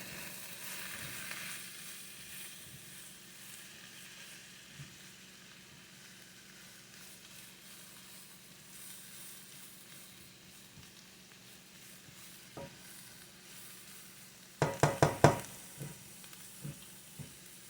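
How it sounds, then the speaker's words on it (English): Chicken and cabbage being stirred in a pan, a quiet steady sizzle with soft scraping, then a brief cluster of sharper clatters near the end as the utensil moves the food, no talk. "Give this a stir."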